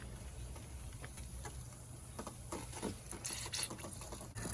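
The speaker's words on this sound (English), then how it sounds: "So we're going to turn on the water. There we go, it's coming." Water flushes through a heater core hose from a 2002 Ford F-150 V8 and trickles into a bucket, a faint, steady splashing and pattering that grows slightly more active toward the end.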